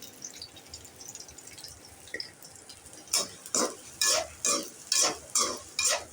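Chopped shallots hit a hot pan with a quiet sizzle, then a spoon stirs them in a run of regular, scraping strokes, about one a second, close and clear over the continuous frying.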